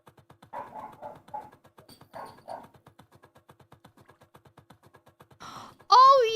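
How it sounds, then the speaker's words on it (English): A neighbor's dog heard from indoors gives a long run of soft, rhythmic huffs with a few muffled voices over them. It ends in a sudden loud, sharp bark. "that's my neighbor's dog."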